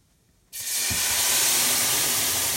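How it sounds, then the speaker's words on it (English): After brief quiet, a loud rush of steam suddenly bursts from a cooking pot of sweet and sour beef and keeps hissing steadily, close by and with no talking. "Oh, lots of steam."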